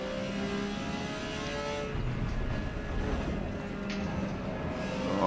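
A Porsche 956 race car accelerates hard down the back straight of the Hakone Grand Prix Circuit in Forza Motorsport, its engine a steady, loud roar that holds throughout.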